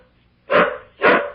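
A dog named Rock gives two loud, close barks about half a second apart, with quiet in between and nobody speaking.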